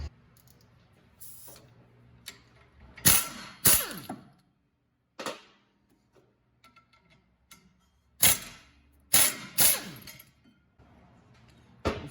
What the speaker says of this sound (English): So now we need to take off these two bolts. These are the bracket bolts.